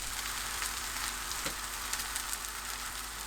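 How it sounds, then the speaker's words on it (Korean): Chive pancake batter spread flat with cockles on top fries in an oiled pan over medium-low heat, making a steady, soft crackling sizzle with a few faint pops. "중약불로 낮추고 반죽을 납작하게 올려주세요. 반죽 위에 따로 빼두었던 꼬막을 올립니다."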